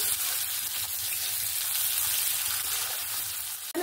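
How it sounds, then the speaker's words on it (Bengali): Chopped tomato and onion fry in a pan, giving a steady, hissing sizzle that holds evenly throughout at moderate volume with no voices. "টমেটো কুচিটা দিয়েও পেঁয়াজের সঙ্গে একটু ভাজা ভাজা করে নেব।"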